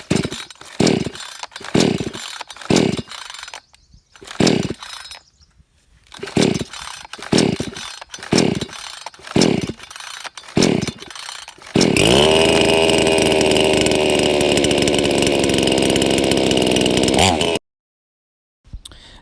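A chainsaw cutting down a tree gives a series of rhythmic revving bursts, then settles into a loud, sustained close roar before cutting off abruptly.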